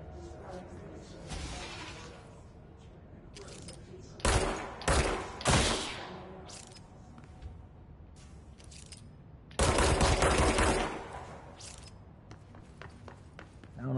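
Gunfire in the video game Control on PS5 comes as sharp, loud bursts of rapid shots in several clusters, with quieter footsteps and thuds between them.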